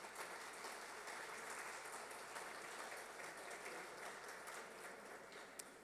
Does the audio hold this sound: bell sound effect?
no